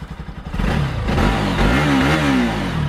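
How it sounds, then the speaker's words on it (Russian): A Bajaj Pulsar NS200 motorcycle engine cranks with a few rapid starter pulses, then catches and settles into a loud, steady running note with a brief rise in revs, heard close and alone. "Давайте стартанем мотор, посмотрим, как он заводится и послушаем, как он работает."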